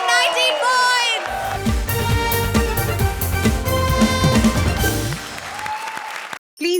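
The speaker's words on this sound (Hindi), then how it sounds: "जोरदार तालियां" A studio audience at a Hindi TV comedy show breaks into loud, sustained applause and cheering over bright show music, with the clapping fading and a short pause near the end.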